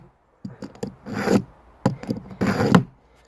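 Two close rasping strokes as a knife is pulled through the carbide slot of a small EDC two-step mini sharpener, each pull a gritty scrape with a short pause between them and no talking.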